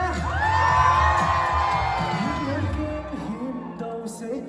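A crowd screams and cheers loudly at a live concert performance during an exhibition opening, high excited voices rising together and then tapering off, with some whoops near the end.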